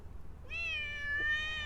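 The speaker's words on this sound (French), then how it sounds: "puis maintenant elle miaule pour rentrer" A cat outdoors in a vegetable garden gives one long, clear meow, close and fairly loud, asking to come back inside against quiet background.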